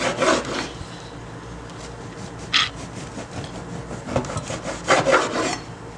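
A knife saws through a thick loaf of bread for French toast with rough, rasping strokes, several bursts of scraping with short pauses between, close up and without talk.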